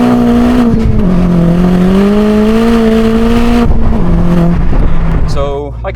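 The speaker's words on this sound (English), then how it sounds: "The noise is, I love that it's quite subtle, the exhaust." A 330 bhp Clubsport-spec VW Polo GTI, its subtle exhaust rising and falling as the engine revs hard and steadily, loud and close, then easing off near the end with a brief pause.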